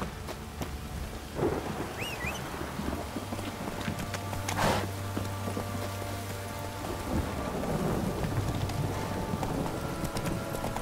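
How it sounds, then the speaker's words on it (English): Heavy rain pours steadily in The Witcher 3: Wild Hunt, a dense continuous hiss with a low rumble of thunder rolling through partway. "This downpour's a bastard"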